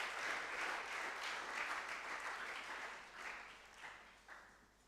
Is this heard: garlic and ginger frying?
no